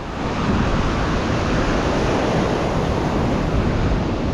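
Ocean surf rolls onto a beach where jacks chase mullet, a continuous, loud broadband wash of breaking waves with steady wind noise and no pauses.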